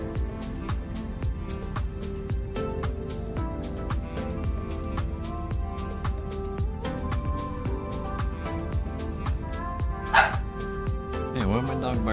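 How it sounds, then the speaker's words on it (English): A dog barks repeatedly somewhere nearby, short yips and woofs scattered through a steady background, with some voice sounds mixed in. "why am my dog barking?"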